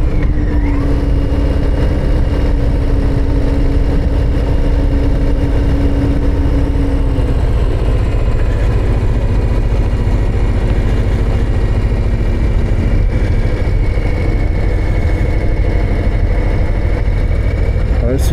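Harley-Davidson Low Rider ST motorcycle climbing the Col de la Madeleine mountain pass, a loud continuous engine drone with wind rush throughout, steady and close without clear gear changes.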